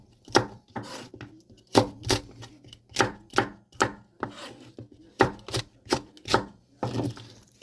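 Rhythmic knife chopping of Cheongyang chili peppers on a board, about a dozen crisp, close strikes in uneven bursts with short pauses between them, no voices present.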